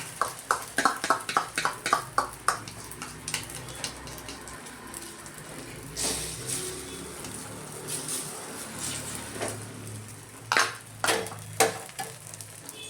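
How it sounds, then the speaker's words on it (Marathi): Beaten egg and onion omelette mixture hits hot oil in a pan and sizzles steadily, with a few sharp clatters early on, then a continuous close frying hiss. "तवा तापलेला आहे, त्याच्यामध्ये तेल पण आहे। तर हे अंडं घालते त्याच्यामध्ये"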